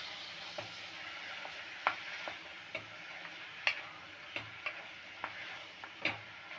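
Broad beans fry softly in a pan, a low hiss under repeated light taps and scrapes of a spoon stirring at an unhurried, fairly regular pace, with no talking.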